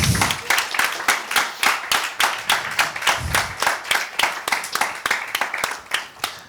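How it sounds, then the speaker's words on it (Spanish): An audience at a Spanish literary talk claps in a brisk, rhythmic burst of distinct, fairly close hand claps that continue steadily throughout, with no voices over them. "Creo que merece un gran aplauso esto, ¿no?"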